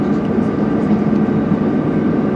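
Interior of a passenger train pulling into Birmingham International station, a steady low rumbling hum of the carriage in motion with a faint whine above it, continuous and unbroken.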